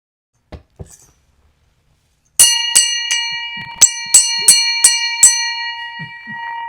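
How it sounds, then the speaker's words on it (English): Handheld bell rung in a quick series of about eight sharp strikes with long ringing overtones, following a couple of soft knocks and a pause; the strikes come in a loose, playful rhythm, close and loud. "She has so much fun with that bell."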